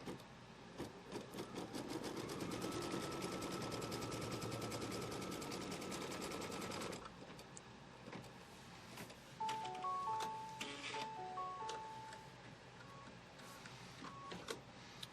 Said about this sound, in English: now we're going to stitch the first placement line.